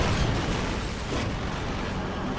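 A tank explodes in the Call of Duty video game, a dense, continuous boom and rumble that fills the whole moment with broadband blast noise and a deep low-end roar, loud and unbroken.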